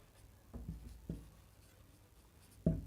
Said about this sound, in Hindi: तो आइए पहले हम लिखते हैं यहाँ पर टोटल रुपए।